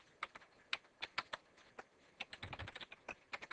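Close, quiet keystrokes on a computer keyboard as router configuration commands are entered, in a quick irregular patter with brief pauses and a denser flurry near the middle, with no voices.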